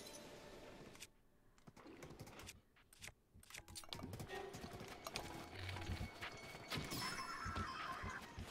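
A horse in Zelda: Breath of the Wild gives clip-clopping hoof steps and a brief whinny amid game effects, quiet and uneven, with no talking.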